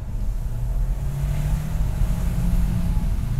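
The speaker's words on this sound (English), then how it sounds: "so that you can hear what the engine sounds like under load." A 2023 Kia Sorento seven-seater's engine is pulling hard under load in normal drive mode, giving a steady, loud low rumble that holds and builds slightly for a few seconds without talk.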